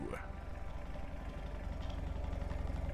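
A deep, rumbling snore-like drone pulses steadily, low and heavy, from a huge creature in a game.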